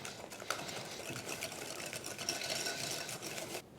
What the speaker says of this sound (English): Then I'm going to whisk all of these ingredients together.